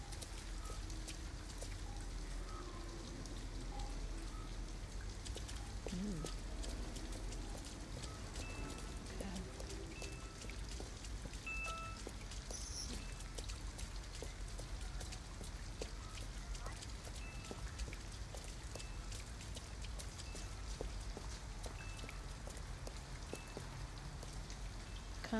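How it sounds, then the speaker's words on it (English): Rain falls steadily in the game Detroit: Become Human, an even, continuous patter of drops on surfaces that holds for the whole stretch, with a few faint footsteps and background tones underneath. "At least we'd be out of the rain."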